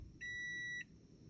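A Toyota Aqua sounds its warning beep while the immobilizer is active, a single clear electronic tone lasting just over half a second over faint background hum.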